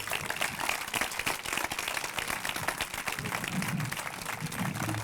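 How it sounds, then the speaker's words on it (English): Audience applause at an outdoor ribbon cutting ceremony for a park bridge, a steady crowd clapping for the full stretch with some low murmuring underneath. "a big round of applause"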